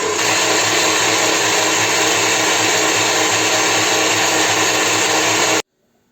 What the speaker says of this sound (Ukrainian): Але перший раз збиваємо масло.